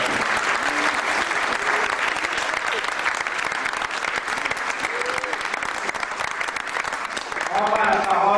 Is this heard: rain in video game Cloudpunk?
no